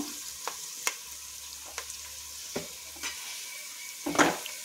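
Onions frying briefly in a pan on a stove, a soft steady sizzle broken by a few sharp scrapes and taps as a spatula stirs them, ending in a louder clatter.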